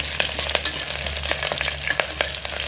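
Garlic, cumin and green chillies fry in hot ghee in a pan, a steady close sizzle broken by sharp spoon scrapes and taps at irregular intervals.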